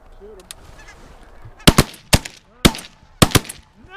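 Geese honk repeatedly as they glide in toward decoys during a hunt, with several loud, sharp calls in quick pairs standing out over a quiet outdoor background.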